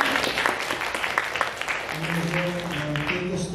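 Audience applause as a professor is welcomed onstage at an animation festival class review session, a dense burst of clapping that thins out toward the end while a voice begins under it.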